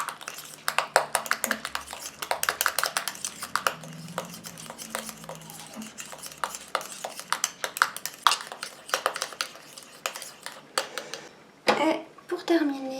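Stirring a homemade anti-cellulite body cream mixture, a steady run of light scraping and clinking strokes in a bowl, fairly close, continuing for several seconds with a brief louder rustle near the end.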